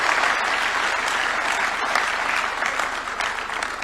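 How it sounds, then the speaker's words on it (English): A crowd at a State House awards ceremony for students claps together in a sustained, fairly loud burst of applause that holds evenly throughout. "A round of applause for her."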